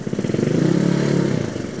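Engine of a motorcycle with a modified engine, heard while riding, giving a loud, close, rapid pulsing drone with slightly rough, uneven firing throughout.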